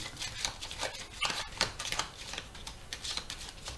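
A deck of playing cards being shuffled with some difficulty, giving a quiet run of rapid papery riffles and flicks in irregular bursts, close by and alone.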